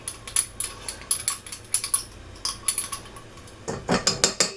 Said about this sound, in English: Scrape what I can out of that.